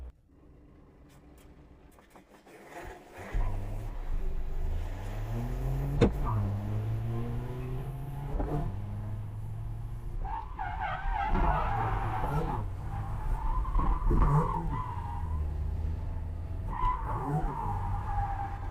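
A BMW E92 drift car works the Kielce track, its engine revving up and down in sweeping pitch rises while tires squeal and skid in drawn-out, wavering bursts, heard from a moderate distance.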